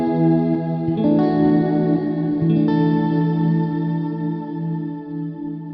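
Electric guitar through a Walrus Audio Slöer reverb pedal on its Dream setting with long decay and high mix, a few notes blooming into a lush shimmering wash that sustains and slowly fades, no voices.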